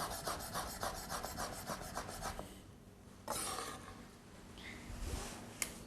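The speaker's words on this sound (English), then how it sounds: "So just grate that, then give it a quick chop." Fresh ginger is rubbed against a kitchen grater in a quick run of rhythmic rasping strokes, close and fairly quiet. A few scattered scrapes and taps follow.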